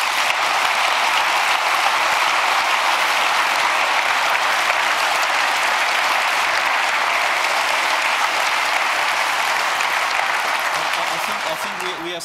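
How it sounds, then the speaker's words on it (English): Big audience applause at a hacker congress closing event: dense, sustained clapping from a large crowd, loud and steady throughout, tapering slightly at the very end. "so a big applause for CERT."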